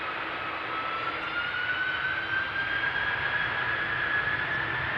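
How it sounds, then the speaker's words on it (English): Jet airliner engines spool up for takeoff on runway 36L at Amsterdam Schiphol, a steady broadband roar with a rising whine that climbs slowly over five seconds, continuous and fairly distant. "Okay, spooling up, another step in the process of taking off."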